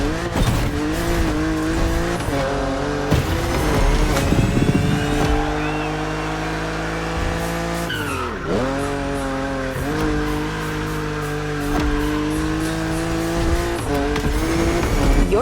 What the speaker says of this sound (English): Your car is the Z4